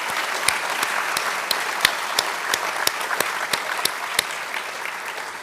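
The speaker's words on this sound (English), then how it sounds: "So I want to give a round of applause, I think, is worthy to all the firefighters who served us so well." Graduation audience clapping for firefighters, a steady, even round of applause with a few sharper individual claps standing out near the microphone.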